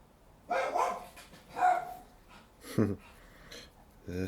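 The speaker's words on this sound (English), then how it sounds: "They're still barking." Dogs barking indoors at a moderate distance, several separate bursts of barks spread across a few seconds, with quiet gaps between them.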